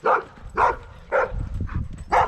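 A golden retriever and two labradors on a walk, giving five short, sharp barks and yips spaced about half a second apart, fairly close, with a soft whimpering tone between them.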